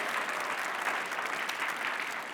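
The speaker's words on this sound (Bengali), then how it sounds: "সবাই জোরে একটা তালি দাও ফর স্কিটো" Studio audience applauding on a television show, a steady dense wash of clapping hands that holds at full strength for the whole span with no voices over it.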